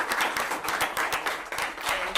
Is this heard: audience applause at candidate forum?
yes